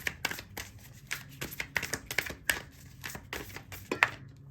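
Oracle cards being shuffled by hand in a quiet room, with a quick series of crisp, papery riffling bursts in an uneven rhythm, close and fairly soft, and no voices.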